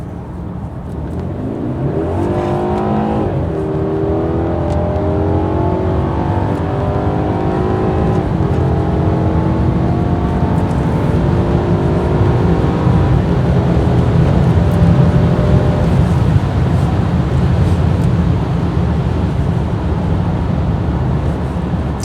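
A BMW F30 330i with the B48 engine drives along, its engine note rising through the gears for the first stretch and then settling into a steady loud cabin drone with road rumble, continuous throughout with no talk.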